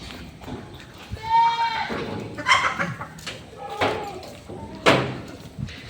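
Full-blood Boer goats on a farm let out several wavering bleats, some near and some farther off, amid clattering bangs and people talking nearby.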